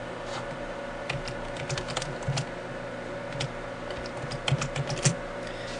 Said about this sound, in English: I'm just gonna type that in and search for it